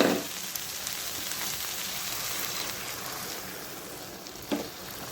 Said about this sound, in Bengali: এই যে ঝোলটা খুব সুন্দর করে ফুটে উঠছে